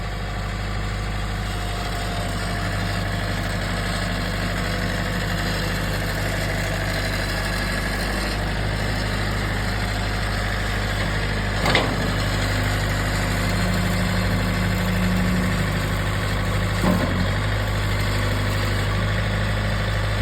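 A John Deere tractor engine idles steadily and close by, a constant low diesel rumble with harmonic hum, broken by two brief knocks or clanks partway through.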